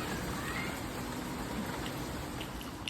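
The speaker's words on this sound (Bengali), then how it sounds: "বাইরে এইরকম কন্ডিশন সারা দিন বৃষ্টি করছে এখন" Rain falls outside through a day-long downpour, heard as a constant, even hiss of fairly low loudness with no distinct drops or breaks across the short stretch.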